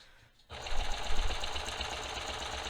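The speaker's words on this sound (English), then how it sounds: "Another thing when you're serging that you do want to be careful of is that the bottom layer is not getting like messed up and folded up" A serger overlock sewing machine stitching a garment body and trimming the seam runs in a steady close whir after a brief quiet start, with faint voice nearby.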